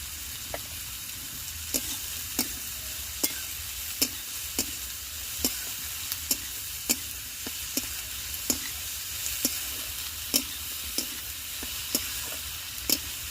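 Goat meat and onions frying in a little oil, a steady sizzle with sharp, regular clicks of a utensil stirring the pan, close and continuous.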